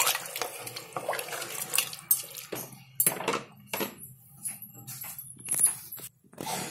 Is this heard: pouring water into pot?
yes